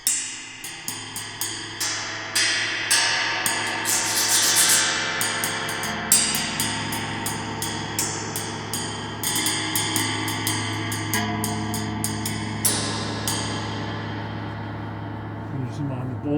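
Fairly heavy chopsticks strike a set of bowls and a bell chime, giving a steady series of close, bright ringing hits whose tones overlap and sustain, with no talking.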